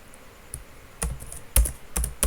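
Keys clatter on a computer keyboard while code is typed, with sparse taps at first that build into quicker, louder bursts of keystrokes, close up and with no voices.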